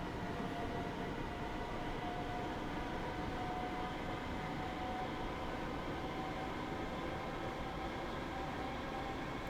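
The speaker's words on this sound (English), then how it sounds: "Yeah, tube trains do sound quite nice." A London-style tube train in Train Sim World 2 rolls along steadily, with a constant rumble and faint whine, loud and unbroken with no talk.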